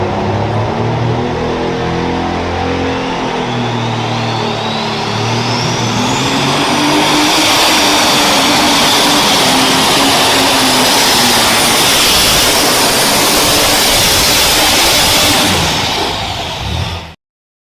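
A pulling tractor engine roars at full power during a championship tractor pull, a loud, sustained blast with a rising whine that holds steady for most of the run before cutting off abruptly at the end.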